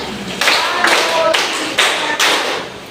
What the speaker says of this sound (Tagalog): maaari pagbigyan ng limang palakpak si Jordan?